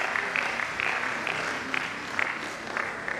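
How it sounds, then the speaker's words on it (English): A lecture audience claps for an honoree, a moderate spread of applause with scattered sharper claps and a few brief higher tones standing out, sustained throughout. "So please clap for him again."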